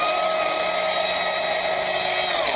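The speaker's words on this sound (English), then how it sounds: "now you see your chainsaw tip coming through, so you don't overcut into your next form" A chainsaw carving scrap wood roars loud and steady at close range, its high engine whine holding without a break and no voices over it.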